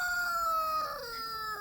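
Roosters crow on a rural homestead near a duck pond, one long drawn-out call ringing clearly and fairly loud, with no talking.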